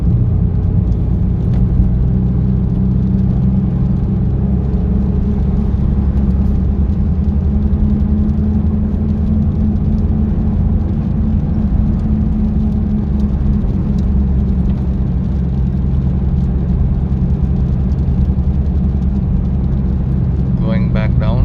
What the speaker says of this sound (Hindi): See if you can here the humming sound.